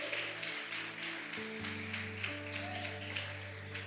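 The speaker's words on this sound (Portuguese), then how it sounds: "Aplauda o Senhor bem forte." A church congregation applauds with a soft, sustained patter of many hands, heard faintly behind steady sustained keyboard or organ chords.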